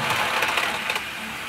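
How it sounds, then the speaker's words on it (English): Strong wind gusts buffet the microphone outdoors, producing a loud, rough, continuous rushing noise with brief crackling bursts. "Excuse the wind up here, by the way."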